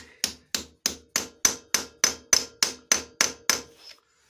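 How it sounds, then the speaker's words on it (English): A hammer knocks a new bush into place on the gearbox case of a Yamaha RD350 LC motorcycle: eleven sharp, evenly spaced metallic blows at close range, about two per second, then silence, with no talking. "all Dave has to do is knock it into place"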